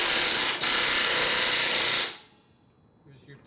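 A ratchet socket wrench works a nut on a 1957 Harley panhead engine in a garage, giving a loud, dense, continuous rasping buzz for about two seconds before it stops, with quieter handling noise and people talking nearby.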